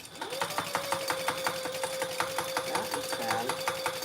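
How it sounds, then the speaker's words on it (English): A sewing machine bastes quilt fronts and backs together, running in a fast, even stitching rhythm up close while someone talks briefly over it. "So I'm just basting these front and backs together."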